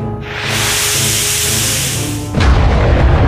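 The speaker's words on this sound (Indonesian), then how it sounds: "ledakan energi spiritual es meledak dari dalam tubuhnya" A loud hissing, roaring burst sustains for about two seconds, then shifts into a deep rumbling blast with crackle, like a big explosion effect.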